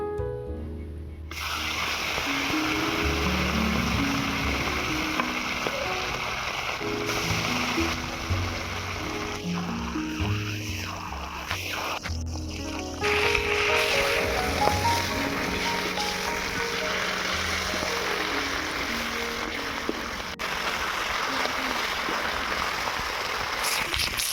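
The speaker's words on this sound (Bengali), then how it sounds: "আবারও বাকি মাছগুলো ভেজে নেব" A second batch of fish fries in oil, giving a long, steady, close sizzling hiss with gushing, bubbly texture and a few brief surges, continuing without speech throughout.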